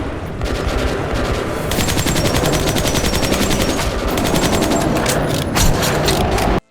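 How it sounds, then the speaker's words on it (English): A machine gun fires in Metro 2033 Redux, a post-apocalyptic first-person shooter, as loud sustained rapid bursts that hammer on for several seconds with a brief pause, then stop abruptly. "You're just reeling off this machine gun at them and they're just soaking up the bullets"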